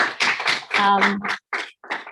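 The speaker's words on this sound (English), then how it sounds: "I suppose we can give him a little round of applause" Light applause from a small online audience thanking a guest speaker, a few scattered hand claps in uneven bursts with gaps, mixed with voices talking over them.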